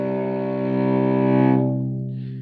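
A cello string bowed with a horsehair bow, one steady low sustained note, close and full, swelling slightly before softening toward the end.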